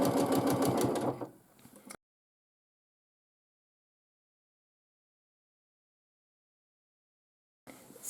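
A sewing machine quilting a line stitches in a quick, steady mechanical run for about a second, slows and stops, then falls silent before a brief restart at the very end.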